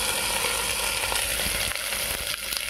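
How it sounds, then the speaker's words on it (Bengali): Chopped onion sizzles steadily in hot oil in a pan for dal bharta, a dense, loud, continuous frying hiss with faint stirring crackles and no voices. "পেঁয়াজটা দিয়ে দিলাম। এবার খুব ভালো করে এটাকে ভেজে নেব।"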